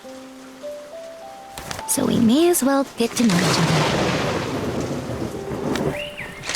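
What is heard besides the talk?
storm with rain and thunder in Paper Trail video game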